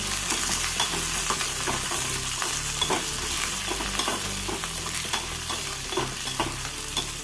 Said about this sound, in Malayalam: ഇതെല്ലാം കൂടി മിക്സ് തന്നെ ഇട്ട് കൊടുക്കാം ഒന്ന് ഇളക്കി എടുക്കാം